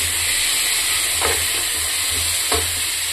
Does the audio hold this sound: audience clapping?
no